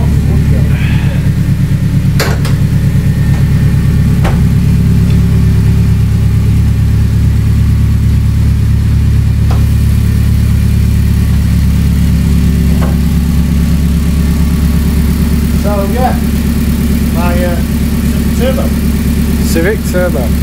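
Honda Civic engine idling steadily, a loud, continuous low rumble close by for the whole stretch, with a few faint clicks and squeaks over it.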